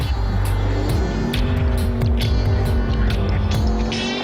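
Noble M600 sports car driven hard, its engine loud and close with rapid revving and gear changes rising and falling throughout, no voices.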